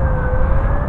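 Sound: sirens

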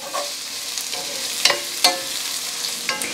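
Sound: onions sauteing in a pan over medium heat

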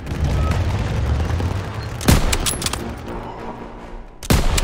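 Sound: gunfire in the video game Call of Duty WW2

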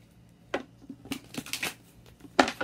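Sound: shuffling tarot cards

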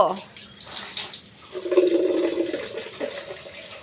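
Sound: water splashing as a young girl bathes

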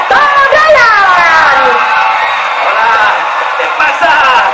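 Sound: studio audience applause and cheering for a guest

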